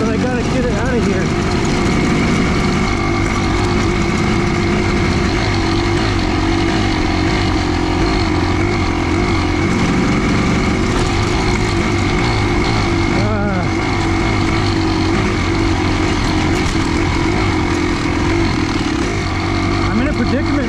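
Kawasaki KX500 dirt bike engine running rough on a mountain trail, a loud continuous two-stroke drone close by that holds throughout with slight irregular surging, and a voice talking over it.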